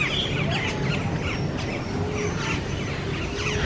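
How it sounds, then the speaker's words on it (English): Many birds fill a theme park aviary with a dense, constant chorus of chirps and calls, some near and some farther off, forming a busy, loud backdrop with no talking. "We're in the bird bit and there are very many birds."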